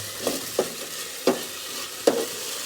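A spoon scrapes and stirs food in a pan while a dish cooks, four distinct scraping strokes spaced unevenly over a soft background sizzle.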